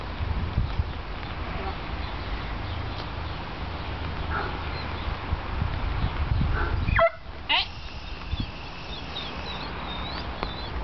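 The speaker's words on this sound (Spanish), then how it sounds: "Ladra porque quiere entrar con la gatita." A dog barks and yips repeatedly over a noisy indoor background in a cattery, with a person talking at times.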